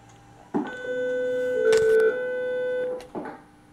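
An electronic intercom phone emits a steady, sustained beep tone, with a short click before and after it, close and fairly loud.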